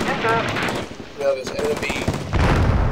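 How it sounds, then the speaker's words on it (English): Automatic weapons fire from enemy-held buildings in the tactical war game Combat Mission Shock Force, with sustained bursts rattling on and off across the whole stretch, mixed with other battle noise. "those buildings open fire on my forces now as well"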